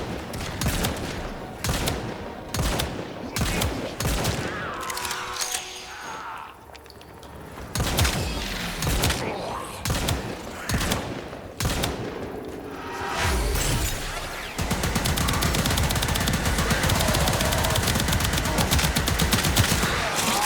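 Rapid bursts of gunfire from the video game Warframe, fast repeated shots in clusters with brief gaps, then a dense continuous barrage of firing and impacts toward the end.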